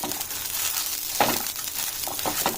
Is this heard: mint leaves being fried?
yes